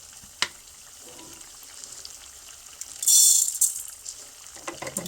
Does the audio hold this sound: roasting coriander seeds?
yes